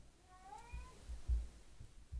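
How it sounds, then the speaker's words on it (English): A faint, drawn-out cat meow rises and falls early on, then low thumping noises follow in a quiet room. "If you can hear a cat meowing in the background"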